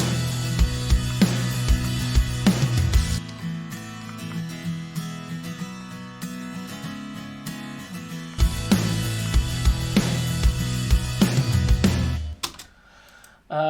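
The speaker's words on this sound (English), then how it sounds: "So 2 tracks playing exactly the same thing, one to the left, one to the right." Two identical acoustic guitar tracks, panned left and right, strum chords in an open E voicing for a country arrangement, with bright ringing strums in two phrases separated by a sustained decay and a brief pause near the end.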